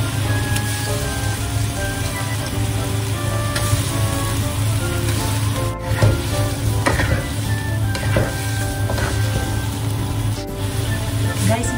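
Steady bubbling and sizzling of fish fillet cooking in boiling black bean sauce in a hot pan, continuous and close, with a low hum beneath and faint voices at times.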